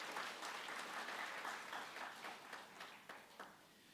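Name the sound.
church congregation applause welcoming newcomers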